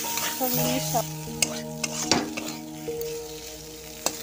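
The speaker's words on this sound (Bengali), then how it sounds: "আলুটা ভাজা ভাজা করে ফেললাম" Peeled potatoes fry in spiced oil in a village kitchen pan, giving a soft sizzle as a utensil stirs and scrapes them with squeaky tones and sharp clicks, close up and without speech.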